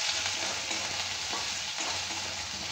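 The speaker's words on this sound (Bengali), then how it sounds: "এটা একটু ভালো করে নেড়ে চেড়ে নিতে হবে" Chopped onion sizzles and fries in hot oil in a pan while being stirred, a constant bright hiss broken by occasional scraping of the spoon, with no talk.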